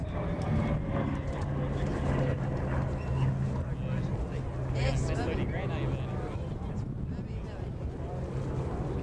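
A CAC Boomerang fighter flying a display at an air show in Queensland, its engine drone steady under heavy wind buffeting, with a commentator speaking throughout.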